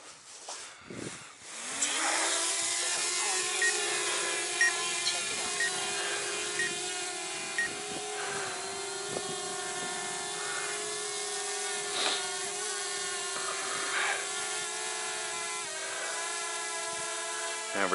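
A drone takes off in winter near Lake of the Clouds, Silver City, Michigan: a brief click and rising whine, then a steady, loud buzzing hum of spinning propellers that holds on with small fluctuations.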